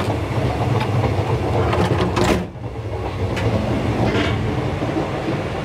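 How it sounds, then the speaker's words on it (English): Sleeper train on Malaysia's Jungle Railway pulling out of Johor Bahru station, a steady loud rumble of carriages and rails rolling throughout, with a brief dip partway through before the running noise resumes. "We are just pulling out of Johor Bahru station."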